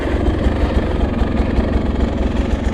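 A 2024 Beta 250 RR dirt bike engine lugs at low revs with a steady, throbbing low-pitched pulse, loud and close, with no talk over it.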